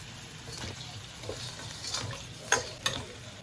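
Caramelizing sugar is stirred in a hot pan for braised pig trotters, giving a steady soft sizzle with scraping strokes and a couple of sharper clinks of the utensil against the pan near the end.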